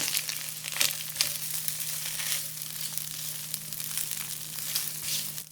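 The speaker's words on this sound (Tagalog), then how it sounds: "ilagay na natin yung bawang. Magsangag na tayo ng kanin." Garlic fried rice cooking in a pan of oil, a continuous crackling sizzle with occasional louder spatters and light stirring, under a low steady hum, no talking.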